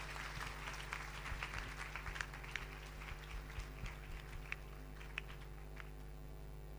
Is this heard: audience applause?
yes